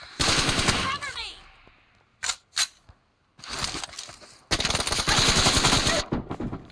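Rapid machine gun fire from a first-person shooter video game, loud sustained bursts separated by brief pauses and a few single shots.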